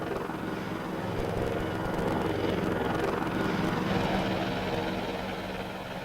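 A Boeing AH-64 Apache attack helicopter roars steadily, its dense rotor and engine noise filling the scene at a constant, loud level for the whole stretch.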